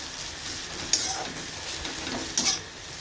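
Chowmein with egg, onion and chili frying in a pan, a steady bright sizzle with a couple of sharp metallic clinks from stirring, close by and without speech.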